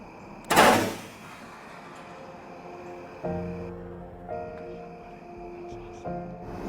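A single sharp, loud rifle shot rings out during a youth-season deer hunt in Iowa, followed by quiet woods and a few soft low sounds.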